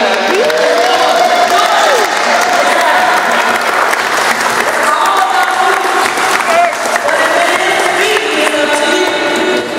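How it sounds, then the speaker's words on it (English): Audience applause at a Magic Johnson Bridgescape and NAAB event, a loud, continuous clapping from a crowd with scattered cheers and whoops, and voices mixed in over the top. "I need y'all to clap and she can smile when you clap"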